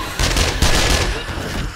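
Rapid SMG gunfire from the video game 7 Days to Die crackles in two close, loud bursts of automatic shots, alone without talk.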